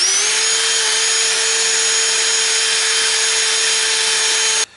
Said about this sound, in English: now we're about to buzz the head